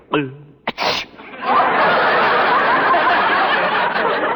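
In a radio comedy, a voiced build-up leads into a sharp, close sneeze sound effect, followed by a sustained burst of studio audience laughter.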